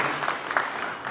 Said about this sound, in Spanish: Un fuerte aplauso, hermanos y hermanas.